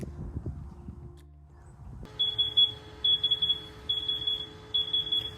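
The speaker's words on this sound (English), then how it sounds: "I'm gonna assume the beeping is bad" A gas detector used during a household gas leak check gives high, rapid bursts of beeps in repeated clusters after a short stretch of low handling noise.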